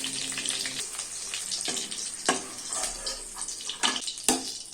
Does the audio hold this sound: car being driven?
no